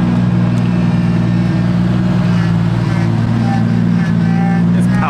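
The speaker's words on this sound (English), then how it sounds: "His power steering is so loud." A car at a car meet runs with loud power steering, a strong, steady engine drone with a whining tone layered on top, close and continuous.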